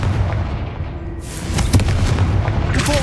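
A Confringo fire spell exploding in the Hogwarts Legacy video game: a steady rumbling background breaks into a bright, crackling blast partway through, followed by further bursts and sizzling debris.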